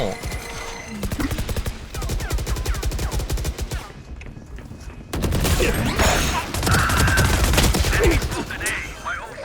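Rapid video game gunfire rattles in loud, dense automatic bursts, drops out briefly near the middle, then resumes just as heavily, with some voices underneath.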